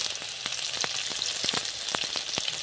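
Onion and boiled cauliflower fry in a pan with a bright, steady sizzle and scattered sharp pops and crackles, close and loud with no talking.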